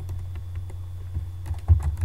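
Typing on a computer keyboard, a rapid, irregular run of close key clicks over a low steady hum, with a few heavier strokes near the end and no voices.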